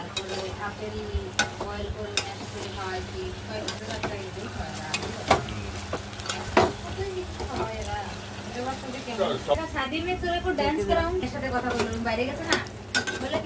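A spoon stirs lentil chutney with turmeric, chili and salt as it fries in a metal pan, giving a steady sizzle and repeated scraping clinks against the pan. A voice talks over the cooking throughout.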